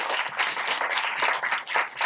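An audience claps in welcome for a guest from the Forest Park Zoo on the Go, a short burst of close, dense applause throughout.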